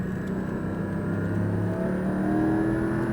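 Porsche Cayman GT4 engine accelerating on a racetrack, a loud steady mid-pitched roar climbing in pitch as revs build, heard from inside the car with no talk.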